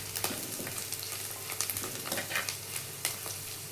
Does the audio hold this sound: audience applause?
no